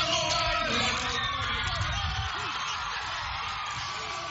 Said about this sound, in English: The All Blacks have been welcomed by a huge crowd on their arrival in Samoa today